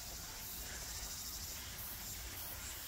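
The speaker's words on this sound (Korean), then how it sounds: "이 매미 소리가" Cicadas sing in a dense pine forest deep in the mountains during autumn, making a steady, unbroken high buzzing drone that fills the whole stretch at a moderate, even level with no voices.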